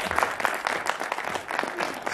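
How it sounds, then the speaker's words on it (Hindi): Audience applause at a Hindi comic poetry gathering (kavi sammelan) in Ghaziabad, a moderate stretch of scattered clapping with uneven bursts that carries on steadily at middling loudness and some distance. "एक बार उनकी भी तालियां बजाइए।"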